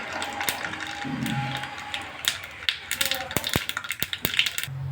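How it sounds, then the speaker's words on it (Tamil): Mustard seeds spluttering in hot oil for a peanut mint chutney tempering, sharp irregular pops and crackles growing denser toward the end, close and fairly loud. "1/2 டீஸ்பூன் கடுகு சேர்க்குறேன்."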